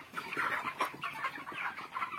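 Broiler chickens on a 2,100-bird poultry farm in Cooch Behar, West Bengal, cluck steadily in a dense chorus of overlapping calls, fairly close and continuous.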